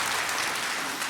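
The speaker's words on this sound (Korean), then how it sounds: "하나님께 영광의 박수를" A Sunday church congregation briefly applauds in praise during worship, a short, dense burst of many hands clapping together.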